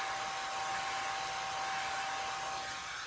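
A hair dryer blows continuously and loudly, a steady whooshing roar with a constant whine that holds from start to finish, while a frightened pet is nearby.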